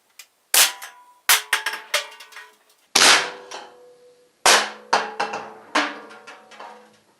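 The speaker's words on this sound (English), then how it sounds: "now you want to aim and shoot." A gun fires at aluminum cans in a series of sharp, loud cracks, each followed by metallic clatter and ringing as the cans are hit, with short gaps between shots.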